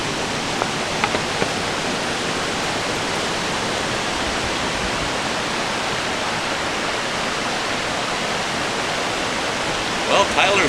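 Wren Falls and its river pour in a steady, dense roar of rushing water, loud and continuous for the whole stretch, with a few faint knocks near the start and end.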